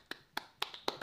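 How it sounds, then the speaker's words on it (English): Hand claps from a person at home, four sharp separate claps spaced about a quarter second apart, close and fairly quiet, with no talking. "Alright, stop clapping"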